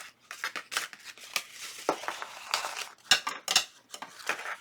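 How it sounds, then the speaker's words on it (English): Scissors trim paper for an accordion-style journaling page, a series of close, crisp snips and blade clicks spaced irregularly, with faint paper rustles between cuts. "Now I'm going to trim this off."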